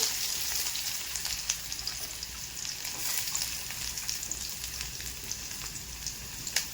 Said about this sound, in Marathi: तेलामध्ये मोहरी टाकून घेतली आहे ना. आता कांदा टाकायचा.